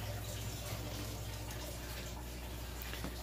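A small waterfall runs steadily inside a 90-gallon mudskipper tank, giving a soft, continuous splash and trickle that stays faint and even throughout.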